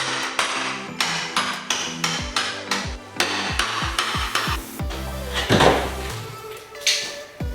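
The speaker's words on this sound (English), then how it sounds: "I'm going to take the bottom molding off." Bottom wall molding being pried off a room wall with a hammer and pry bar, giving a rapid series of sharp knocks and taps with creaks of wood pulling loose, close and fairly loud, with no talking.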